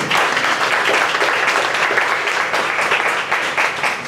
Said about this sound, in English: So I want to give Elba a round of applause.